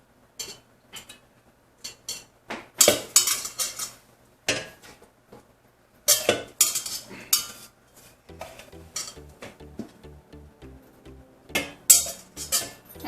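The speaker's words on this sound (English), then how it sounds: "Then we're going to put another dish, whatever fits inside of it" Dishes and a pot clink and knock as a smaller dish is set inside a pot of rose petals to make homemade rose water, with scattered close clatters and a few louder bursts of handling noise.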